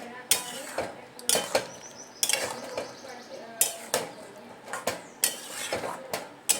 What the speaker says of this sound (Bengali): এই গামলাটাকে ধুয়ে খানিকটা জল ঢেলে দিই এর ভিতরে।